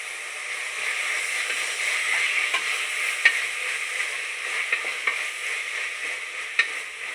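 Curry leaves frying in chicken gravy give a steady close sizzle and hiss, with a few sharp pops and light stirring scrapes throughout.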